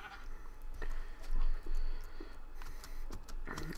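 Sheep bleats in the Minecraft video game come as a few short cries over faint game background noise, with light clicking and no speech.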